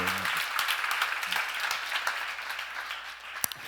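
A church congregation applauds during a sermon, a dense, steady patter of many hands clapping together for a few seconds, with a lone sharper clap standing out near the end.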